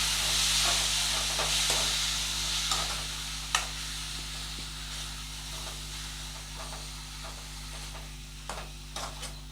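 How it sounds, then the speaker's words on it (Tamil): Manathakkali greens are stirred through hot oil in a pan, giving a steady soft sizzle and hiss with scattered light clicks and scrapes from the spoon, close by and with no voices. "அந்த எண்ணெயிலே லேசாக இப்படி பரட்டி விட்டுக்கலாம்"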